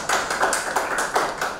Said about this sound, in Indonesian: kalau cukup kita kasih tepuk tangan buat kelompok 5